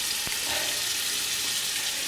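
A steady, bright sizzle of cubed steak frying in a hot pan, continuous and close, with no talking.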